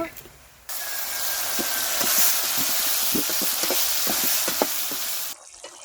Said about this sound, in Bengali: পেঁয়াজ লাল লাল ভাজা হয়ে গেছে, এখন আমি মশলা দিয়ে দেব।